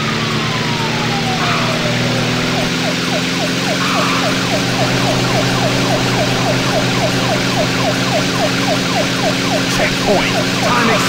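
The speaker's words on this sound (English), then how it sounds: "A police car is approaching." A loud wailing siren with a rapid, repeating warble over a constant engine drone, a synthesized police car close by in the racing game Thrill Drive 2.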